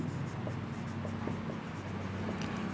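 Pen or chalk writing out the solution to a math problem, a steady soft scratching with small rhythmic taps, close and alone under a low room hum.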